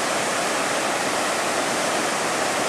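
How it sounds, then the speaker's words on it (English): The Zambezi River rushes over the lip of the falls in a steady, loud roar of churning water, a broad unbroken wash heard close with no voices over it. "The mighty Zambezi River."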